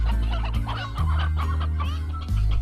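Chickens cluck in the video game Slime Rancher, several loud close bursts of clucking over a steady low droning game soundtrack, with no voices.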